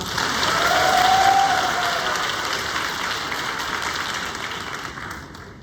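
An audience at a high school economics symposium applauds before a keynote speech, a dense sustained clatter that swells early, then gradually thins and fades.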